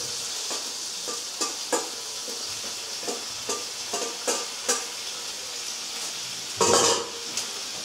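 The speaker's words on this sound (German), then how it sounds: "Ich brate das Ganze jetzt 2 Minuten lang den Kohlrabi an." Kohlrabi pieces sizzle in a hot pan for low-carb faux potato hash, a steady frying hiss broken by repeated scrapes and clacks of a utensil stirring against the pan, with one louder burst of sizzle near the end.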